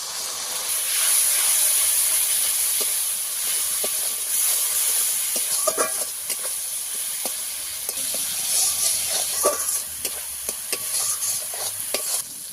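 Water poured onto hot ginger-garlic paste, chopped tomato and chilli powder in a pan for a fish curry sets off a loud, sustained steamy hiss and sizzle, with scattered scraping clicks from stirring.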